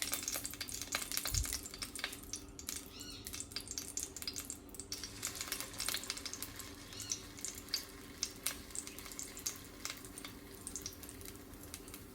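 Steady close sizzling and crackling from water thrown into a hot pan before cooking mung bean patties, with occasional stirring scrapes, continuing without pause.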